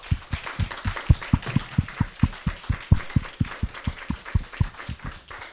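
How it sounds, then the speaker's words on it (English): Applause in a conference room, a few nearby hands clapping in a steady, even rhythm of sharp close claps, with no talk over it. "You've got a remote clap on Zoom and people are applauding in the room"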